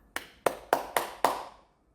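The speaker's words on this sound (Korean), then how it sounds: "우리 하나님 아버지께 감사의 박수를 올려드립니다" Hand claps at a Sunday church worship service: five sharp, evenly spaced claps with a reverberant hall tail, fairly loud, with no talk over them.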